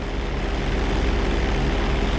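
Loud, steady drone of a propeller plane engine during a roll manoeuvre in GTA V flight school, a constant close buzzing hum with no talk.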